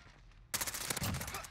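Gunfire in a Call of Duty match: a sudden loud burst of rapid shots starting after a quiet moment, continuing as a dense crackling volley with low game ambience underneath.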